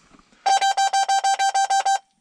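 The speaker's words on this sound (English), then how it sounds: "These 93s always beep as hell." A John Deere 93-series tractor display gives a run of about ten identical loud electronic beeps in a steady rhythm while its screen loads up, close by and with no talk over it.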